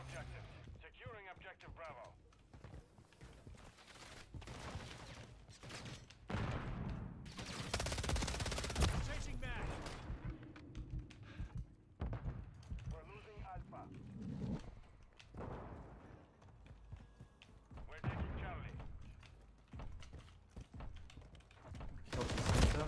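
Video game firefight with bursts of automatic gunfire and scattered single shots, intermittent and fairly loud, mixed with game radio chatter and other voices.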